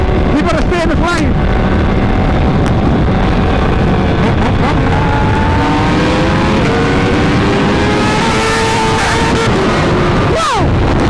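A Kawasaki Ninja H2 fitted with an aftermarket exhaust races by, its engine whine rising and falling through heavy wind buffeting on the microphone, ending with a sharp pitch-dropping pass near the close.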